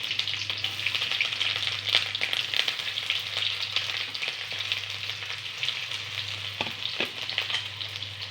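Onions frying in a pan with bay leaves, ground garlic and ginger for a taro curry, a steady close sizzle with occasional stirring knocks throughout and no talk.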